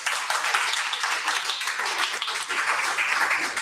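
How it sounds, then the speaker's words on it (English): Audience clapping fills the room at the close of a JavaScript meetup in Warsaw, a steady dense patter of many hands, fairly close and continuous with no talk over it. "let's give a round of applause to yourself for coming and sticking to the end"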